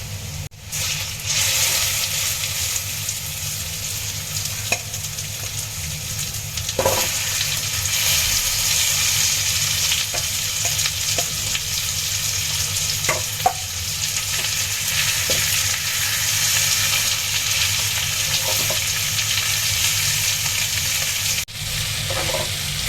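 Chicken sizzles and fries steadily in hot oil with onion, garlic and ginger, a continuous close crackle with occasional stirring clinks and scrapes, no voices.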